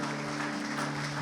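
A church congregation claps briefly in a short, dense burst of applause, with a steady musical tone sustained underneath.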